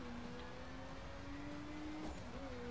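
A Bentley driven in the video game The Crew gives a faint, steady engine drone holding an even pitch with a slight rise near the end.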